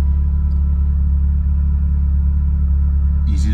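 A 1980 Ferrari 308GTSi runs just after a cold start, its engine holding a steady, loud low rumble close by, with a brief higher-pitched whir near the end.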